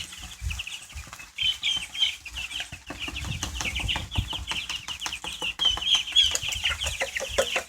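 White broiler chickens and turkeys in a brooder keep up steady clucking and cheeping, with busy overlapping calls, soft scratching and occasional wing flaps close by throughout.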